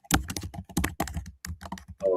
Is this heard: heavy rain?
no